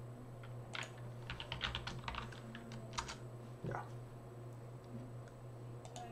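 Rapid keystrokes on a computer keyboard while a command is entered, clicking in quick irregular bursts with short pauses, close and fairly soft over a steady low hum.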